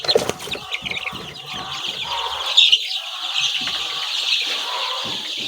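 Young chicks chirp in a brooder, a dense continuous stream of high-pitched peeping from many birds at close range, with a few louder calls rising briefly above the steady chorus.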